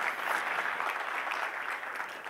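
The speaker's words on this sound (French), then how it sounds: "On peut l'applaudir, hein?" A church congregation applauds a woman after her part in a pastor's sermon, brief steady clapping of moderate loudness from the room.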